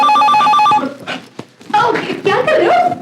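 A telephone rings indoors with a repeating electronic trill, loud and close, then stops; voices speak over the rest of the clip, with more tonal ringing continuing under the talk.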